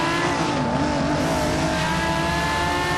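Aston Martin racing in the Forza Street video game: a steady, loud synthetic engine drone with a sustained high whine, holding constant pitch throughout without any talk.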